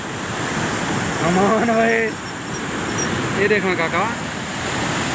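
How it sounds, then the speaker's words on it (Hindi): Water rushes loudly and steadily through the Taunsa barrage on the river, a constant roaring wash, while someone speaks over it in short phrases. "पानी का एडा शोर है, एडा शोर है"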